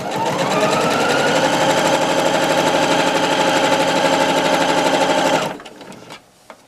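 A sewing machine stitches a fabric face mask in one fast, continuous run of rapid needle strokes, close and steady, then stops abruptly, leaving faint handling noises.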